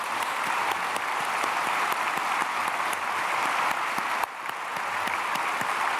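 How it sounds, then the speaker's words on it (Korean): Church congregation in Korea applauding during a Sunday worship service: broad, continuous clapping from a large crowd, loud and even throughout, with a brief dip in intensity near the end before it resumes. "우리 크게 박수하겠습니다."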